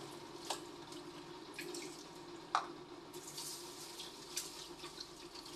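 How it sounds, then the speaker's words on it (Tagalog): Rice being washed under a running kitchen tap in a sink: a steady, fairly quiet rush of water with a few brief splashes and clinks scattered through it. "Maghuhugas tayo ng bigas. Dito sa lababo."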